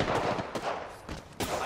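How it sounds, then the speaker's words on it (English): Rapid bursts of gunfire in a ranked online shooter game, several sharp volleys in quick succession, loud and dense throughout. "I am taking fire."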